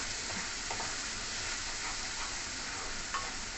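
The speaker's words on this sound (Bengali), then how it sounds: "একটুখানি কস্তুরি মেথি দিয়ে দিচ্ছি, দিয়ে আমি নাড়াচাড়া করে অফ করে দেবো।" Masala with a pinch of kasuri methi being stirred in a pan for paneer butter masala, a steady low sizzle and hiss running throughout with a few soft spoon scrapes.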